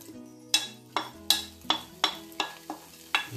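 Garlic and onion frying in a pot or casserole for a potato tajine, with a spoon stirring and clinking against the pan in regular strokes about every half second over a faint steady sizzle, close up and with no talking.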